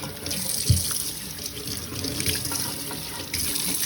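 Tap water running into a sink to wet a rag, a steady close rush of flowing water with a brief splash near the start and no talking.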